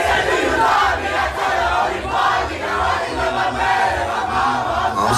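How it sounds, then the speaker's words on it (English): A party crowd at a sweet sixteen celebration in New York roars and cheers in pulsing waves, loud and close, over a thumping low beat. "Let me hear this crowd."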